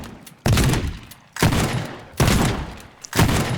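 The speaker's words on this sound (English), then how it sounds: "we have a gun, just a little pistol that does some minor damage, and a shotgun for some larger" Gunfire from a pistol and a shotgun in the Teardown video game sounds as four loud, close blasts spaced under a second apart, each trailing off in a rumbling decay.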